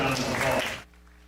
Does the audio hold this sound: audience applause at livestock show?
yes